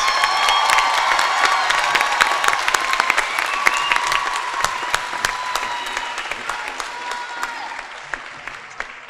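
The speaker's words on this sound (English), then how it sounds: "Could we have a round of applause for the graduate degrees in arts and sciences?" Applause and cheering from a large commencement crowd as graduate degrees in arts and sciences are conferred, dense clapping with scattered whoops and shouts running steadily throughout and slowly easing toward the end.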